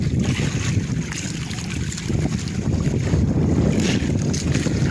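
A boat at sea in rough weather off the Philippines, with strong wind buffeting the microphone and waves rushing against the hull in a continuous loud roar.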